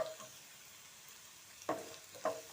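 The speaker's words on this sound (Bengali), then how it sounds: "এবার কাজুগুলো দিয়েও একসঙ্গে ভালো করে মিশিয়ে নিচ্ছি এইভাবে আরও দু এক মিনিট ভেজে" Onion, ginger, garlic and cashews frying in a pan, a low steady sizzle broken by two sharp scraping stirs of the spatula near the end.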